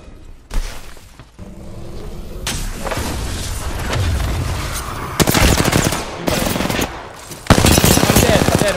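Heavy automatic gunfire in a shooter game, dense rapid bursts and loud rattling volleys near and loud, broken by short pauses, with a brief voice under the din.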